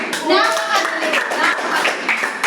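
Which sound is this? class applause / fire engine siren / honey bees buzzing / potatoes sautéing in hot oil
class applause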